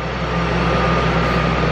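Nearby small truck being worked on, running as a constant heavy engine rumble with a faint tonal whine, loud and unbroken throughout.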